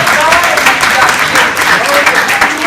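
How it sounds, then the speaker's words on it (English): Loud, dense applause from a crowd at a town hall meeting with police and officials, sustained throughout with some shouting voices mixed in. "That applause for you officials up here"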